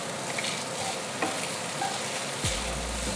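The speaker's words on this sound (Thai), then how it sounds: "เราจะเติมน้ำมันมะกอกไปนิดนึงค่ะ ให้เคลือบเส้นนะคะ ผัดให้เข้ากันค่ะ" Spaghetti coated with a little olive oil is stir-fried in a pan, a steady sizzle with soft scraping and stirring, and one brief clunk near the end.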